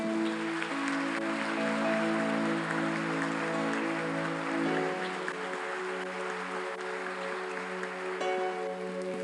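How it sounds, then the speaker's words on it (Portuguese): Church congregation applauding at length, steady dense clapping under sustained organ or keyboard chords, moderately loud and filling the room, with no speech. "Você pode aplaudir a Jesus por isso?"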